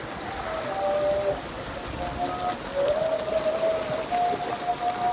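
Isha call to prayer (azan) carrying from a distance over a river in Kerinci, a faint melodic sustained voice rising and holding above steady broadband flowing water noise.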